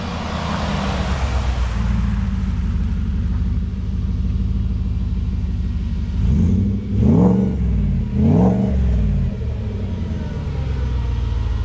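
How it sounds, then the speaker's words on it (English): A 1972 Ford Bronco Trail Edition cruises along the road at a bit above cruising speed, its engine giving a steady loud rumble with a couple of brief swells in the middle as it pulls harder. "This thing gets up and moves. Sounds good, planted on the road, doing a little more than cruising speed there."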